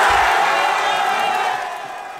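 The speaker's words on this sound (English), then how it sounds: "the crowd erupts" A large crowd of football fans roars and cheers at the 2012 NFL Draft pick of the 12th selection by the Philadelphia Eagles, a loud sustained wash of voices that slowly fades.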